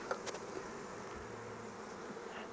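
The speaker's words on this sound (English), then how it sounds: "there's lots of bee activity" Honey bees buzz steadily around an open Flow Hive after smoke, a dense continuous drone that sits close and fairly quiet with no talk.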